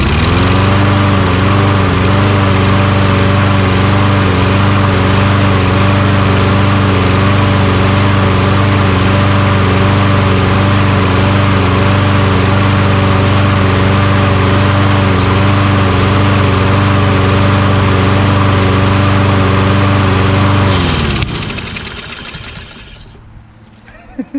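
Toro Recycler lawn mower with a Kohler XT675 engine running on old gas, a loud, steady buzzing drone that holds for about twenty seconds before the engine cuts out and winds down to quiet.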